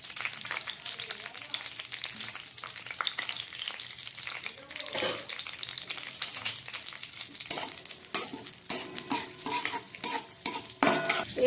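Bay leaves, green chillies and Bengali five-spice fry in hot oil in a pan, a close steady sizzle with stirring and a utensil scraping and clinking against the pan.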